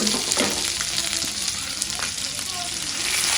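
Native stinging catfish pieces and fish roe sizzle and crackle in hot oil with onion and spices, a steady close frying hiss with occasional stirring scrapes and pops.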